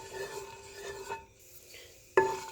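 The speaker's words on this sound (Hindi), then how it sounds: "अब इसमें 1 टीस्पून क्रश्ड पेपर, कुटी हुई लाल मिर्चें 1 टीस्पून। इसको डाल के हल्का सा मैं भूनूंगी।" Crushed red pepper flakes stirred in hot oil in a pan, a soft faint sizzle with light scraping of a utensil and a sharper metallic clink near the end, no talking.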